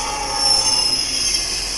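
Train ride in a video game set between Napoli and Firenze: a loud, continuous rumble of rolling carriages with a sustained high metallic squeal of wheels on track, no talking.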